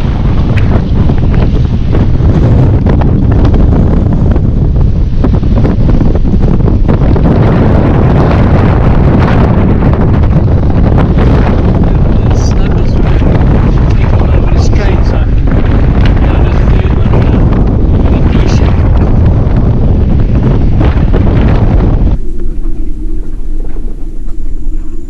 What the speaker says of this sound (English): The wind was really howling, 33 knots, gusting up to 40 knots.